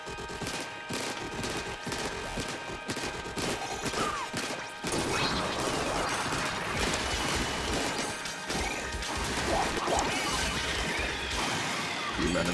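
Ink strike explosions in Splatoon 3's Side Order mode: a rapid barrage of splattering blasts and crashing impacts, sparse and choppy at first, then swelling into a dense, continuous roar of overlapping bursts mixed with game effects.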